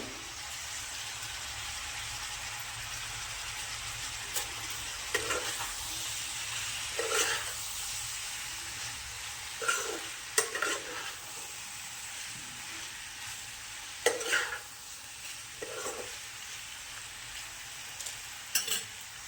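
Boiled pasta being added to a pan and stir-fried with vegetables and egg in a village kitchen, a continuous soft sizzle broken by irregular scraping stirs and clinks of a spatula against the pan.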